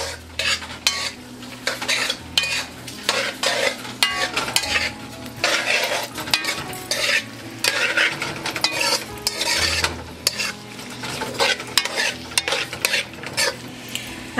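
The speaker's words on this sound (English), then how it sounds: "I'm just going to stir that." Shrimp curry is stirred in a pan, with busy, continuous scraping and clinking of a utensil against the pan over a low sizzle, close and fairly loud, with no voices.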